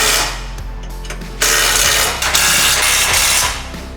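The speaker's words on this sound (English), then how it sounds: "Now we're gonna proceed to tighten those 4 screws." A ratchet tightens the skid plate screws on a 4th-gen Toyota Tacoma, giving a loud, close, continuous rapid clicking that runs for several seconds in steady bursts with no talking.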